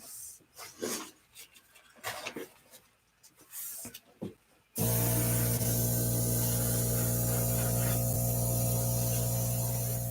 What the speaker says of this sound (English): Airbrush. Here she comes.